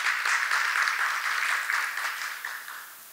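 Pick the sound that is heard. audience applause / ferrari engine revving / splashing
audience applause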